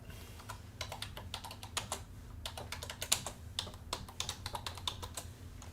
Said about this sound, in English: Dadgum, my keyboard.